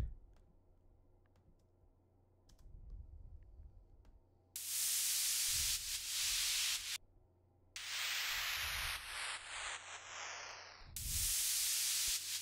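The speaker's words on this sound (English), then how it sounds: "to really fill out the high end, I've got this white noise" Bursts of bright hissing white noise cut in and out over a soft future bass beat with low thumps, stopping abruptly between sections to act as percussion effects.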